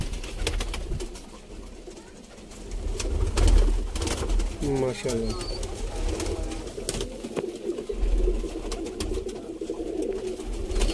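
Pigeons of a Sialkoti breed coo in soft, rolling bursts around the middle, set against outdoor background noise, while someone talks nearby.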